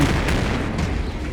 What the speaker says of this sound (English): Gotta throw some grenades, maybe I can take them out that way.